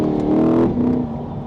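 C8 Corvette V8 blipping during a quick downshift, a loud, close engine surge that swells and then settles over about a second and a half, with no talk.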